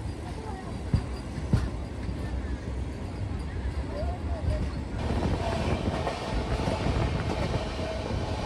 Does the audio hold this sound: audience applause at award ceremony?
no